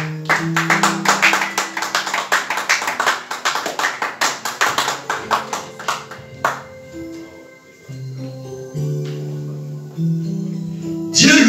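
A church congregation claps in a fast, steady rhythm for several seconds over sung worship music, then the clapping fades and the singing and instruments carry on alone.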